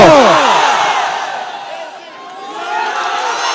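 Crowd at an election campaign rally shouting in loud, surging cheers and whoops; the roar peaks at the start, dips, then swells again.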